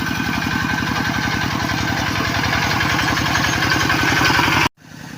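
A two-wheel walk-behind tractor engine chugs steadily at close range during ploughing in a rice field, with a fast, even thumping pulse that holds for about four and a half seconds before cutting off abruptly.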